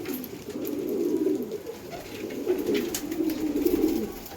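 Breeding pigeons in a loft give low, rolling coos that swell and fade in overlapping phrases, close and fairly loud, with faint background rustle.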